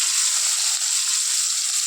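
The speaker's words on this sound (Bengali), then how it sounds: "কড়াইয়ের তেল আমার গরম হয়ে গেছে, তার মধ্যেই আমি দিয়ে দেবো রসুন আর টমেটো কুচিটা।" Garlic and chopped tomato hitting hot oil in a wok-style kadai, a loud, steady, bright sizzle with no talk.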